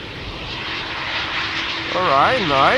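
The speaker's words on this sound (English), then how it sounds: "here in the foreground we have a KLM Ember 190 that is returning from Cork in Ireland" KLM Embraer 190 airliner arriving at Amsterdam Schiphol, a steady jet engine roar at moderate distance, with a voice talking over it toward the end.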